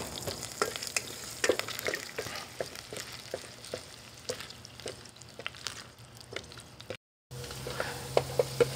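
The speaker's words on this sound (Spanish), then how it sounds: "Vamos a utilizar primeramente nuestra cebolla. La vamos a sofreír un poquito." Chopped onion sautéing in already-hot oil on a stovetop gives a steady close sizzle with repeated stirring scrapes throughout, then a brief cutoff before the frying resumes; no one speaks.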